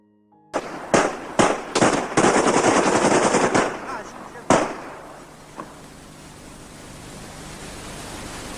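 A hail of gunfire at a courtyard execution against a wall: several loud bursts of automatic fire in quick succession, then a final shot and a lone later crack fading into a steady hiss.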